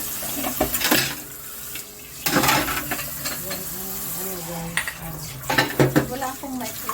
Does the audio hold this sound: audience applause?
no